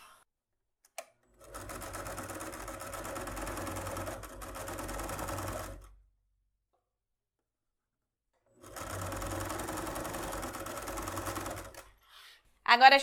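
Sewing machine running steadily for two long bursts of rapid stitching as a seam is sewn on a fabric makeup bag, close and clear with a short silent pause between runs.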